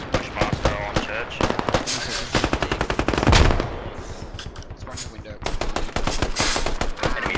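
Rapid bursts of machine gun fire from a Bushmaster's remote weapon station in a Russians-versus-Australians video game battle, loud, close and dense, with short pauses between volleys and a heavy blast partway through.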